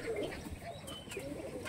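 Native pigeons kept in small coops coo softly in the morning, low rolling calls repeating at a distance, faint against a quiet background.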